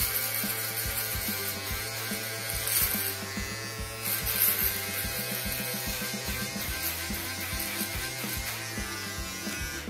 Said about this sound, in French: ce rasoir électrique ne coupera pas les poils longs